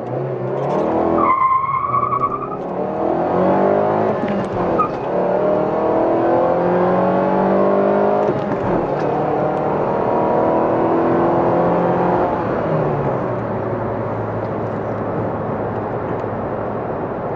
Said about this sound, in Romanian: 0-100 cu Renault Fluence, 2 litri, benzină, aer condiționat pornit,